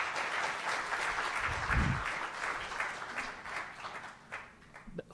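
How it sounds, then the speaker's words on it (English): An audience at a talk gives a round of applause for a speaker, a continuous wash of clapping that gradually thins and fades toward the end, with a brief low thump partway through. "yeah, you can clap for him."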